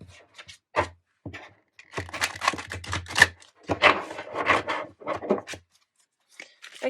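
Tarot cards being shuffled during a pick-a-pile reading: bursts of dry, papery riffling and tapping come in irregular clusters with short pauses, close and fairly loud, with no talk.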